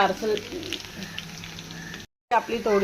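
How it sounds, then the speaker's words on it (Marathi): Garlic and chili hit hot oil for methi bhaji, giving a steady, close frying sizzle, while a voice talks over it and briefly drops out. "तेल गरम झालंय तर टाकूया लसूण"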